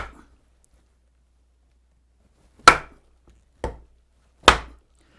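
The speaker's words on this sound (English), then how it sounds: "I need to split a little off here." Green wood being split by hand to rough out a wooden spoon blank, three sharp, separate cracks and knocks spaced about a second apart, close and clear against a nearly silent background.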